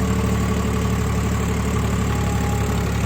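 A heavy 855 4x4 tractor engine idles steadily with a low, throbbing rumble that runs unchanged throughout, nearby and fairly loud.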